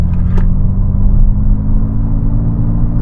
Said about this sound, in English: You put in boost mode, and this is the pickup from 40 to 70.